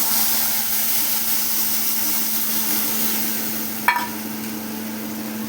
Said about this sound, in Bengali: এখন মশলাটা ঢেলে দেবো তেলের ভিতরে।